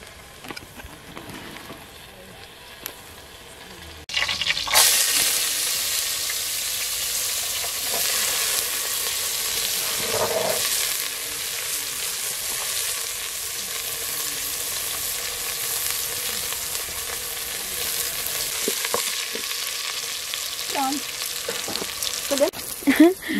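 Food sizzles in oil in a pan from about four seconds on, a steady close hiss with occasional crackles and stirring sounds, after a quiet start.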